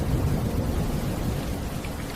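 Steady rain falling, a dense, even wash of droplets with a low rumbling undertone, constant and moderately loud throughout with no voices.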